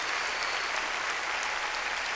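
A congregation at a Sunday church service claps loudly and steadily, dense continuous applause filling the room with no voices over it.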